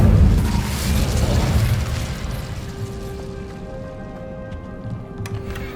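The Incendio fire spell is cast in Hogwarts Legacy: a loud, whooshing fiery burst erupts at once and then slowly dies away into a soft crackling hiss and faint ringing tones.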